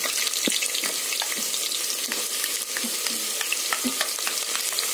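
Onions frying in a pan until brownish: a dense, crackling sizzle that stays loud and close, peppered with small pops and soft stirring scrapes.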